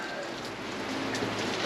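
Heavy rain pours steadily outdoors at a storage auction, a dense continuous hiss of drops on surfaces without a pause and with no talking.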